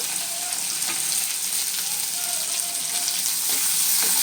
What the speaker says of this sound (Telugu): పప్పులు వేగాలండి, పప్పులు వేగిన తర్వాత ఉల్లిపాయ వేసుకోండి.